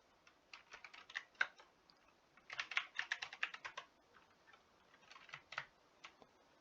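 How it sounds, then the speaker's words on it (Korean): Typing on a computer keyboard while entering code in a development environment, with quick irregular bursts of clicking keystrokes close by, pausing between runs of keys, and no voices. "여기에 따옴표 치시고 아무 문자나 입력을 해주시면"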